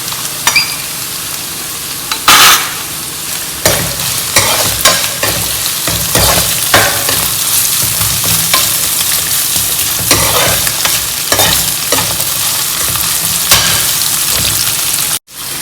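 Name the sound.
ginger, garlic and green chilies frying for Kerala prawn pickle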